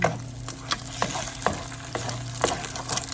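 Egg for fried rice sizzles steadily as it is stir-fried in a pan, with a spatula scraping in a loose rhythm of close, sharp strokes over the continuous frying hiss.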